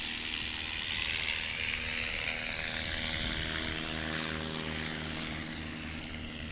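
A STOL light airplane at a rural airpark practice day runs its engine and propeller, a loud, steady droning buzz with a smooth throbbing hum held nearby, no talk over it.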